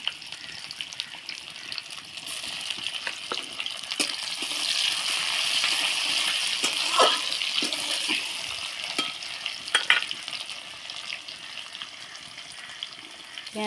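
Onion and chopped tomato sizzle steadily in a pan, a soft continuous frying hiss with occasional stirring scrapes and clinks, fairly quiet and close, with no talking.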